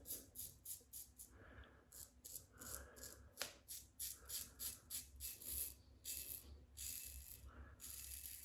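A double-edge open-comb safety razor scrapes through whiskers during a close shave with cream, giving a series of short, crisp rasping strokes in uneven rhythm. The sound is quiet and close, with no talking.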